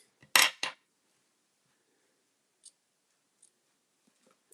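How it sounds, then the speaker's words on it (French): Scissors cut small ribbons, with a couple of close, crisp snips at the start followed by faint clicks and taps in an otherwise quiet room. "il faut que je recoupe mes petits rubans correctement"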